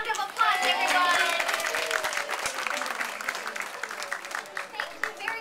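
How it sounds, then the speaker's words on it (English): An audience claps for a man invited up on stage, a dense burst of applause that fades gradually into scattered individual claps, heard with no talking over it. "Let's give him a big round of applause, everyone."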